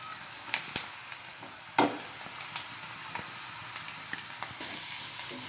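Capsicum and grated carrot frying in oil, giving a faint, steady sizzle with occasional sharp clicks and stirring taps, alone without talk.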